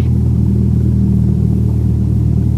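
A light airplane engine runs up to about 1,000 RPM during a pre-flight run-up, a loud, steady, throbbing low-pitched drone heard alone without any talk.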